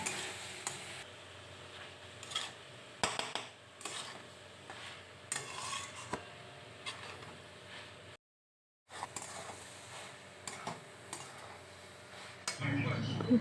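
Soybean chunks and egg being sautéed with spices in a pan for a homemade chowmein, with a spatula stirring and scraping in irregular bursts over a soft, steady sizzle, close by, with a brief silent gap midway.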